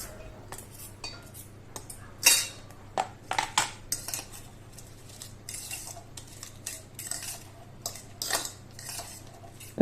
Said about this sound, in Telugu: ఇవన్నీ మంచిగా సాల్ట్ కలిసేలాగా మిక్స్ చేసుకోవాలి